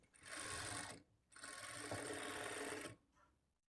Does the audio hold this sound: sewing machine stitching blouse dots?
yes